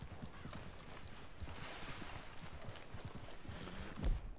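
Horse hooves clip-clop steadily in Red Dead Redemption, a game, with a dense, even stream of hoofbeats under background game ambience.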